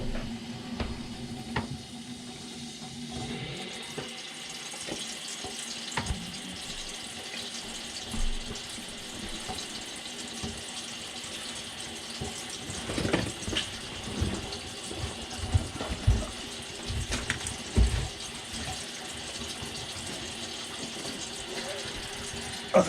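A sink faucet runs at full blast in a kitchen during removal of a leaking garbage disposal, a steady hiss of water with clatters and knocks over it while people talk intermittently nearby.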